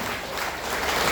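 A graduation ceremony audience applauding, a brief steady wash of many hands clapping at close range, with no talk over it.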